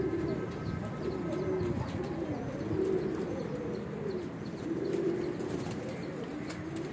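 Sialkoti, Kansani and Weshi pigeons coo in low, repeated rolling calls against a steady background hum, the cooing rising and falling several times with no talking.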